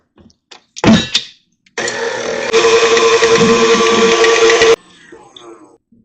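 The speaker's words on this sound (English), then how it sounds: "And I'm going to put my whisk on." An electric whisk beats butter for cookie dough in a home kitchen, starting with a brief burst and then running as a steady, loud whirring drone for about three seconds before switching off.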